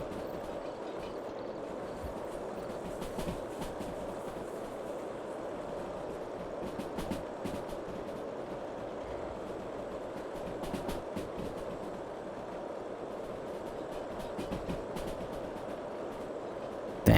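Big Boy steam locomotive running in the Derail Valley train game, a steady, fairly quiet rolling rumble with faint rail clatter throughout and no voices.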